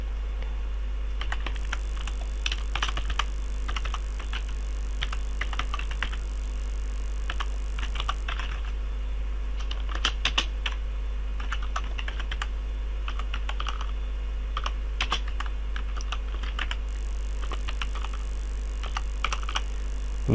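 Computer keyboard keys are tapped in quick irregular bursts while code is entered into a notepad file, fairly close and continuous under a steady low hum, with no talking.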